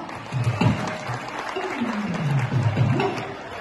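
A crowd applauds at a Devipujak community Mata ki Jyot religious gathering in Ulhasnagar, steady clapping running beneath a voice speaking over a loudspeaker, swelling slightly in the middle and end.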